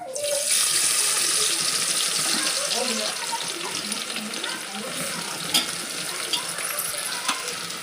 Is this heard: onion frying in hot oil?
yes